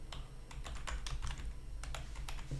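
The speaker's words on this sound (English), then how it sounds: "type in transform" Quick, crisp keystrokes on a computer keyboard come in irregular bursts and short runs, close and clear with no voices.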